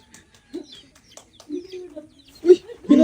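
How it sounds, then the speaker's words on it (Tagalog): A chicken clucks in short, irregular bursts at close range while people talk and exclaim over it. "Manok ni Dongdong to."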